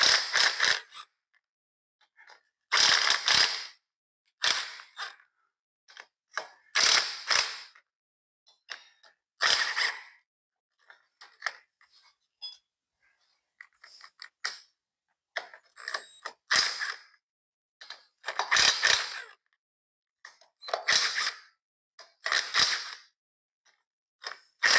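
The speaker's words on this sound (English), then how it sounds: "We're going to go ahead and try to get these head bolts off." Head bolts loosened on the engine of a John Deere 90 skid steer, heard as repeated bursts of ratchet-like clicking and metal creaks, separated by short quiet gaps, close by with no talk.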